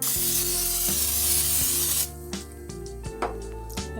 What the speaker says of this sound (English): The first thing I'm going to do is spray my griddle with a non-stick cooking